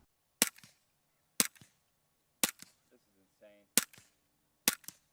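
Five crisp, sharp gunshots through a .45 caliber suppressor, evenly spaced about a second apart, each a short clean snap with a brief echo, and a faint voice briefly between shots.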